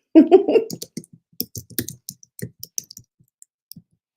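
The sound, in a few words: typing on a computer keyboard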